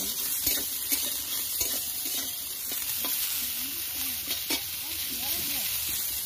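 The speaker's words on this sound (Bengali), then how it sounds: "হালকা ভেজে ওই তেলে ডাটাটা একটু হালকা করে নেবে।" Vegetable stems frying lightly in hot oil, giving a steady soft sizzle with occasional stirring scrapes and clinks close by, and no talking.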